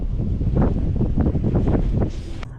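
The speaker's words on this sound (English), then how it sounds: "As you guys can probably hear and see, it's getting very windy out here now." Strong wind gusts buffet the microphone outdoors on a trout and carp fishing trip, producing a loud, continuous rumbling roar with irregular blasts throughout.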